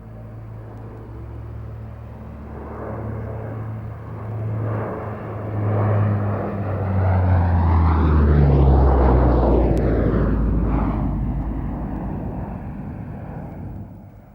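US Marine Corps Lockheed KC-130 Hercules turboprop in a display flight at an air show, a deep droning propeller rumble that builds as it closes in and passes, pitch sweeping downward, then eases off.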